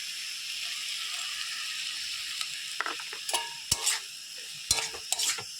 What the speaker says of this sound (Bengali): ভালো করে সর্ষে বাটাটাকে মিশিয়ে নিচ্ছি ডাঁটা আর শাকের সঙ্গে।